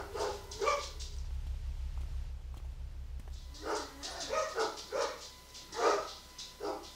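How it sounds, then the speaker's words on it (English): Several dogs bark in the background of a room, at first with a single bark and then a run of sharp, mid-distance barks and yips over a low steady hum. "Sorry if you hear my dogs in the background."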